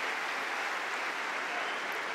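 A tennis crowd applauds steadily after a Stan Wawrinka drop shot, a dense, even wash of clapping that holds at full strength throughout with no pause.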